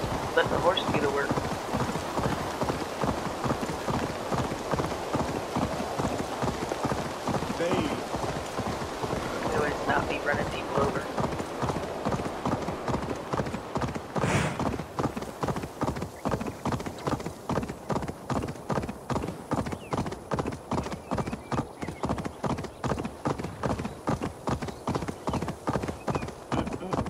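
Horse hooves clip-clop in a fast, steady rhythm for a long stretch in the video game Assassin's Creed Valhalla, with rain-like hiss and occasional voices in the background.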